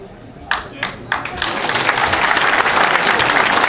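Audience applause at a Greek political campaign speech, opening with a few separate claps that swell into loud, sustained clapping from a large crowd.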